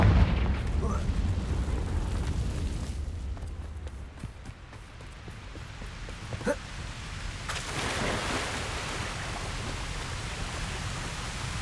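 The Confringo blasting spell goes off in Hogwarts Legacy with a muffled boom and a rumbling burst. It rises out of a constant rain-like wash of game noise, and a voice is briefly present.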